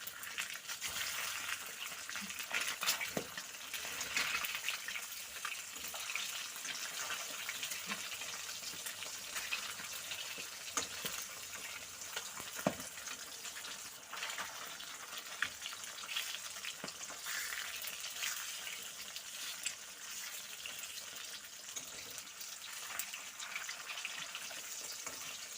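Pomfret fish fry in hot oil in a pan with a continuous soft sizzle and crackle, fairly faint, broken by occasional sharp ticks and spatters across a long stretch.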